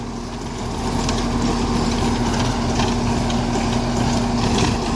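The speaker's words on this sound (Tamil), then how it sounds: "இப்போ பார்த்தீங்கன்னா சக்தி ப்ளஸ் ரொட்டாவேட்டருங்க. எழுபத்தஞ்சு HP CRDA இன்ஜினுங்க." A Sonalika 75 hp CRDI tractor running in normal gear, pulling a Sakthi rotavator through a field. Engine noise holds at a steady, loud drone for the whole clip, with a constant low hum and broadband clatter and no speech.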